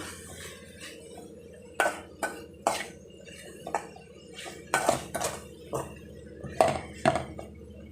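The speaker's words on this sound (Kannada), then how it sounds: "ಇದೆಲ್ಲ ಇದಕ್ಕೆ ಹಾಕ್ಬಿಟ್ಟು ಚೆನ್ನಾಗಿ ಮಿಕ್ಸ್ ಮಾಡ್ಕೋಬೇಕು" Spoon scraping and clinking in a pan while brinjal palya is stirred with coriander powder, a series of sharp metallic taps in uneven bursts over a low background, close by.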